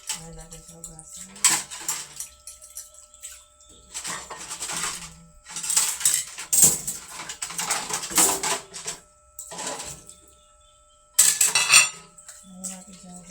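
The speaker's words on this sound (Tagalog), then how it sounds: "Hugasan guys. Ayan natin sa hugasan." Dishes are washed at a sink in bursts of running water and clattering plates and cutlery, separated by short quiet gaps, fairly close and loud.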